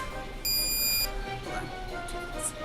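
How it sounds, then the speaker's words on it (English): A stud finder that also senses electrical wiring gives a short high-pitched electronic buzz for about half a second, fairly faint, with soft room noise and brief quiet speech around it. "That's the electrical buzzer"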